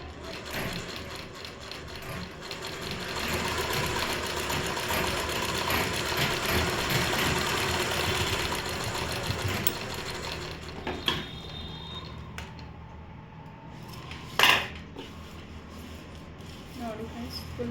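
A sewing machine stitches a fall onto a saree with a fast, steady mechanical whir and ratcheting clatter, then slows and stops before some clicks and handling noises. Someone talks over the machine.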